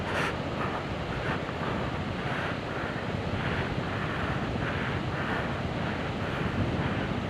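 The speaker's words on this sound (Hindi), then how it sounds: "कितना अग्रेसिव पानी का फ्लो" Fast, aggressive river water rushes loudly and continuously near a mountain bridge on the way to Mana Pass, a dense roaring wash with wind buffeting the microphone and no voices.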